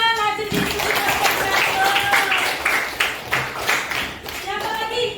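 A classroom of children claps for a group's discussion result, a burst of clapping mixed with children's voices and talk throughout.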